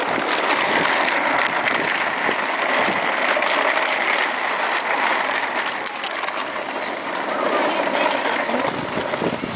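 A waterfall gives off a steady, dense roar that stays loud and unbroken throughout, heard up close.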